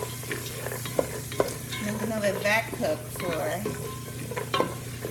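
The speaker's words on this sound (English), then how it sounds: "Stirring it up." Raw cashews being stirred into a pot of vegan butternut squash soup, with a spoon scraping and clinking against the pot in an irregular rhythm over a steady low simmer, close and moderately loud.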